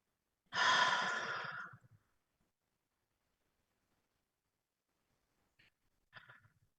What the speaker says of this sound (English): just repeat this deep breathing 2 more times, allowing your body to relax a little more with each exhale